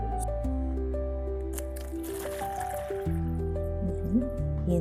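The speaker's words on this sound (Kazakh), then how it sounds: "стақанға суды құя қойшы" Water is poured into a drinking glass for a simple classroom experiment, a soft trickling fill heard close but quiet beneath sustained background tones.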